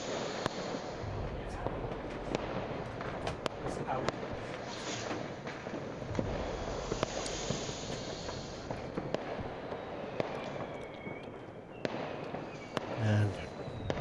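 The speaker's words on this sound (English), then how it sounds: "I like all these fireworks sounds." Fireworks and firecrackers burst outside in a dense, ongoing crackle of scattered pops and bangs at a distance, filling the background for the whole stretch.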